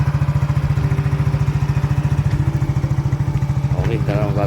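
A Yamaha Mio Soul i 115cc scooter idling up close after a carbon cleaning, a loud, steady low putter with even rapid firing pulses, joined near the end by a voice.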